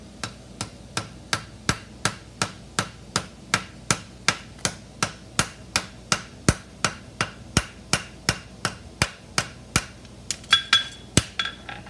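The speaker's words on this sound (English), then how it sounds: "now all I gotta do is clip it, and then we'll shape the shoe around the clip" Steel horseshoe hammered on an anvil while clipping and shaping it, a long run of sharp ringing metallic strikes at a steady even rhythm, close and clear, with a few quicker blows at the end.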